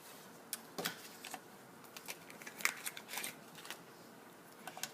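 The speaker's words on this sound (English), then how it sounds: "so now I'm going to cut out my hello" Scissors cutting out a paper hello sentiment for a handmade card, quiet close crisp snips and rustles in irregular bursts, with no talk.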